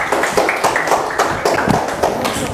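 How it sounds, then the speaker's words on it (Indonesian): A classroom group claps for the first team of students presenting at a teacher performance test in Indonesia, with loud, close, fairly rhythmic hand claps in quick succession and faint voices mixed in. "Tepuk tangan untuk kelompok 1."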